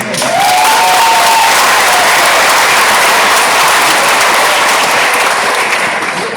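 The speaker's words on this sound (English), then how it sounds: "I think we can give the doctor another big round of applause" An audience claps for a NASA doctor after a presentation, a full, sustained round of applause filling the room loudly and evenly from start to finish.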